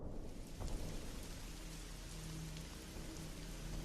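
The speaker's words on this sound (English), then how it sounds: "That night, as rain poured down," Heavy rain pours down steadily as a dense, continuous hiss on a surface, with a faint low rumble beneath and no voices.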